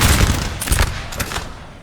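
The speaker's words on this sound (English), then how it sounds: "We're seeing all kinds of gunfire over here." Massed musket volleys crackle and boom through a Napoleon: Total War battle between French and Ottoman lines, a dense, continuous fusillade of overlapping shots with heavier low thumps, loud and sustained throughout.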